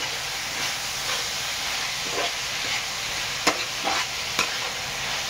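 Capsicum (bell pepper) stir-frying in a hot pan for Schezwan fried rice: a loud, steady hissing sizzle throughout, with a few sharp metallic clicks and scrapes of the spatula toward the end, no voices.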